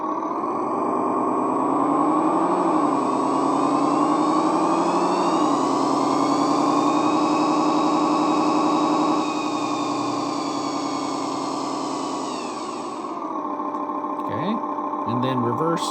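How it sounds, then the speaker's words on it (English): A Caterpillar 730 articulated dump truck's engine sound card plays a steady, loud engine drone that rises and falls in pitch as if shifting through gears, then settles toward the end, with a voice talking faintly beneath it. "it's going to make the sound like it's shifting gears"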